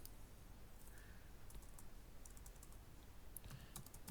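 Keys clack in quick irregular bursts on a computer keyboard as a paragraph is typed out, fairly quiet and close, with no talking.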